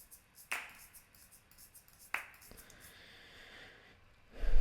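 Crisp, isolated finger snaps and hand claps from a song mix land sharply a few seconds apart over a quiet background, each a bright transient with a short tail, ending in a louder swell.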